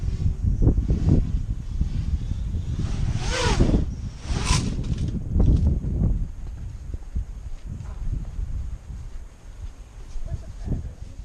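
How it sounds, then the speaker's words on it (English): Strong outdoor wind buffets the microphone on a blustery day at a flying field for an Armattan CF258 drone, a steady broadband rumble that swells and fades in gusts throughout. "there's just too much wind"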